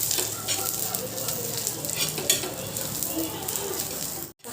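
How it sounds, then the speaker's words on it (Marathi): Garlic cloves and a spoonful of dal sautéing in hot oil for egg curry, a dense continuous sizzle close up with light stirring scrapes, cutting off abruptly near the end. "इथे तीन ते चार लसूणच्या पाकळ्या त्यासुद्धा परतून घ्यायची आहे आणि इथे मी एक चम्मच डाळ घेतली आहे म्हणजे डाळावर ते सुद्धा तेलामध्ये चांगलं परतून घ्यायचं आहे"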